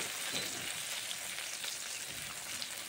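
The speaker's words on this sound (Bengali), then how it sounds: "উচ্ছে ভাজা হয়ে গেছে" Fried bitter gourd still crackling in a pan, an even, close hiss of oil sizzling without pause or voices over the short stretch.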